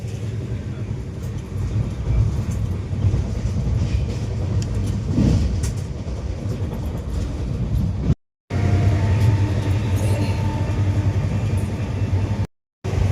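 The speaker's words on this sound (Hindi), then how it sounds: "अभी हम लोग बेतगारा रेलवे स्टेशन को स्किप कर रहे हैं, और आई थिंक कोई तो ट्रेन को ओवरटेक भी कर रहे हैं" Steady rumbling rush of an express train on the Northeast Frontier line speeding through a small railway station while overtaking another train, loud and continuous from inside a coach, with two brief dropouts near the end.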